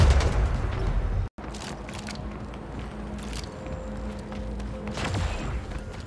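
Battle rifle fire in the Splitgate arena shooter, a steady stream of sharp game shots layered over constant ambient noise, with one abrupt brief dropout partway through.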